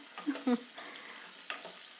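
Bitter gourd fries in a pan while being stirred, giving a few soft scraping strokes over a low, steady sizzle.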